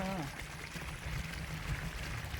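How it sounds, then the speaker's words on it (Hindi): A waterfall roars as a constant broadband rush of flowing water, near and steady throughout, with people talking over it. "देखिए हम लोग झरना के पास है।"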